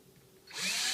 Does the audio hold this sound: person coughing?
no